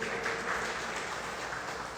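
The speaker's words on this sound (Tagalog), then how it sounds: "Palakpak nga natin si Jesus." A congregation claps for Jesus during a Christian sermon, a steady, dense wash of applause held for about two seconds at moderate level.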